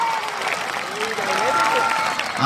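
Audience clapping at a Telugu drama performance, a steady wash of applause lasting throughout with a voice and some tonal sound running faintly underneath.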